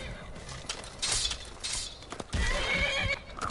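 A horse whinnies loudly in short bursts amid clattering hooves and a sharp crash in the video game Skyrim, close and vivid.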